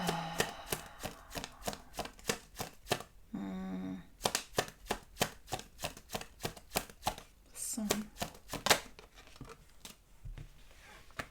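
Tarot cards being shuffled and drawn, with rapid close riffling and slapping card sounds in quick rhythmic bursts through most of the stretch, and a voice speaking briefly in places.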